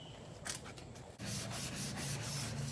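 Steady rasping strokes of sandpaper rubbing inside a 1968 Ford Mustang, close and continuous, with a brief pause before the scraping resumes more strongly.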